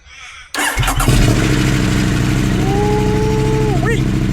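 A motorbike with an aftermarket decat exhaust fires up after a brief quiet moment and settles into a loud, gruff rumble with a rising rev, heard close and on its own.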